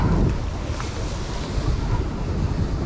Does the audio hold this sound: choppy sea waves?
yes